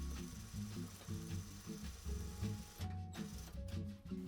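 A sewing machine runs in short, whirring bursts of stitching, with small mechanical clicks between runs, as it sews the stretched elastic waistband of boxer shorts.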